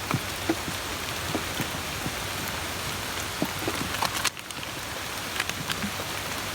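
Steady rain falls on surfaces outdoors, a continuous soft hiss dotted with scattered individual drop taps, moderately quiet with no one speaking.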